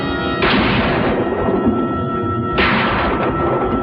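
Two booming gunshots from the 1950s film Bride of the Monster, about two seconds apart. Each is loud and reverberant with a long, rumbling tail.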